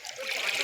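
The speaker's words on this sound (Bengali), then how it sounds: "এখানে ধোয়া হচ্ছে মাছ" Water trickling and splashing as freshly caught small pond fish are washed outdoors, a steady close run of dribbling and light splatter with no voices.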